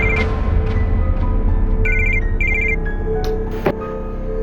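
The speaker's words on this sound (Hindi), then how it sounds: "किसका फोन है?" A mobile phone rings indoors in a drama scene, two short bursts of tonal ringtone standing out over a steady background hum and music, with no speech.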